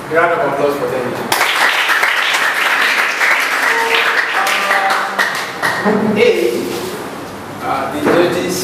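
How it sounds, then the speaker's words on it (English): Audience applauding a student debate group, a burst of clapping mixed with voices and scattered knocks, lively and fairly close, with people speaking throughout. "a round of applause for them."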